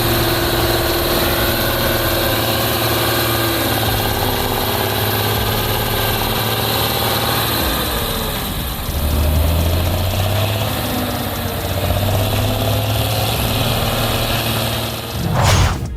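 A T150K tractor, a model first produced in 1971, idles with a steady, droning engine hum. Its low tone shifts slightly in pitch partway through, then settles back.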